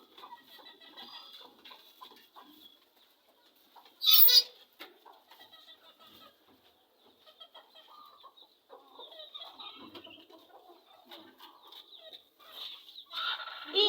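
Desi hens on a small poultry farm cluck and coo softly at a distance, with one sharper, louder call partway through and another rising at the end, over otherwise quiet surroundings.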